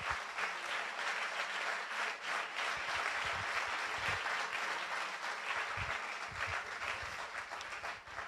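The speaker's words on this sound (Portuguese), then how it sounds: "Uma salva de palmas para este jovem artista português" An audience applauds a young Portuguese artist at a panel event on Portuguese arts and letters, with dense, steady clapping that fills the hall for the whole stretch and fades slightly toward the end.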